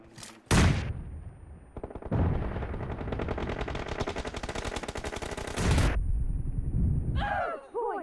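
Rapid gunfire in a mobile team deathmatch shooter game, with a shotgun in play: a sharp opening blast, then a long dense burst of loud continuous shots, ending in softer chirping effects.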